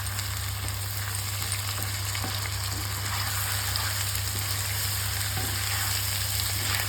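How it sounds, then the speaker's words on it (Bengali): Potatoes with added chili fry in a pan, giving a steady, close sizzle with faint stirring scrapes throughout, over a low constant hum and with no voices. "এবার কিন্তু সুন্দরভাবে আলুটাও কিন্তু ভাজা হয়ে গেছে"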